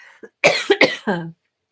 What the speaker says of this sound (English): Sorry, I'm going to cough.